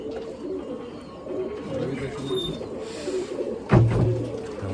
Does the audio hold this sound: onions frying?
no